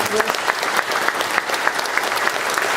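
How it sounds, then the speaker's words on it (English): A round of applause from an audience in a council chamber after a police chief's active-shooter presentation, steady dense clapping throughout without pause. "let's give Chief Hunter a round of applause."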